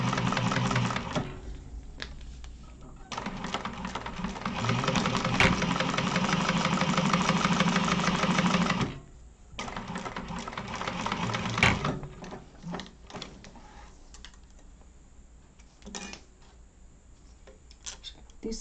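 Domestic sewing machine runs a seam at a steady, rapid mechanical chatter for several seconds on a Zip-N-Grip project, then stops, followed by shorter intermittent bursts and quieter handling noise nearby.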